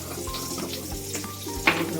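Mustard seeds, about half a spoonful, dropped into hot oil with asafoetida while cooking an eggplant bharta, giving a close, busy sizzle with small pops and crackles throughout.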